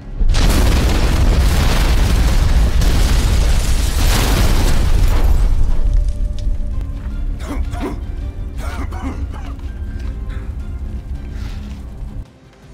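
A loud, rumbling explosion roars for several seconds, then gives way to scattered debris clatter and thuds as it dies down.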